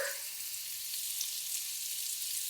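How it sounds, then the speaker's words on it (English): Onion frying in melted, foaming butter with olive oil, garlic, salt and pepper: a steady, close hiss of sizzling with faint crackle, continuous and without talk. "We're gonna get the onion into the melted foaming butter with the olive oil"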